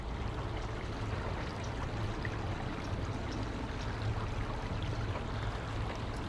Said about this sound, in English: But the sound of the water is what's nice.